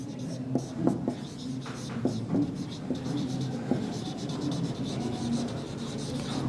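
Hand writing on a classroom board, a marker or chalk scratching in short strokes and taps, close and clear, with a voice talking softly now and then beneath the scraping.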